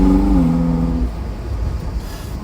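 A Ferrari engine revs loudly with a smooth, droning note for about a second while the car is driving, then eases into a rougher, lower rumble of road and engine noise.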